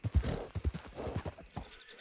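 Horse hooves clip-clop in a quick uneven rhythm close by in the Red Dead Redemption II video game, with a horse's whinny blending into the steps.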